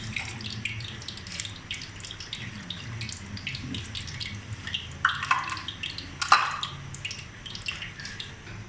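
Water poured from a cup into a pot holding sugar and cardamom for gulab jamun syrup, a light splashing trickle with a few sharper clinks and splashes near the middle, close and fairly soft, no talking.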